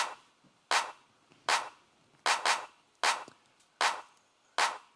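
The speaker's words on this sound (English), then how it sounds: "One sort of typical 909 clap, and one more punchy clap" Layered claps, a typical 909 clap together with a punchier hit sample, sound seven times at an even, sharp pace, each snapping out with a short noisy tail and no voice.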